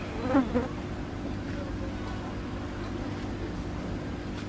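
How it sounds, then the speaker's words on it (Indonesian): Crickets buzz and chirp steadily against a low background hum, with a couple of slightly louder chirps near the start. "Itu deh kasih makan jangkrik."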